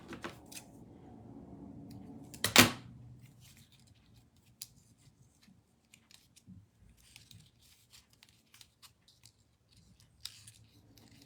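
Scissors cut through card paper for a Christmas lattice card, one loud crisp snip followed by a scatter of faint small clicks and snips, close by with no talking.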